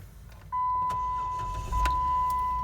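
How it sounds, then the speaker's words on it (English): A 2008 Jeep Wrangler Unlimited 4x4 engine cranks and catches, then settles into a steady idle, close by, with a brief mechanical whine alongside and no talking. "I'll go ahead and start it up."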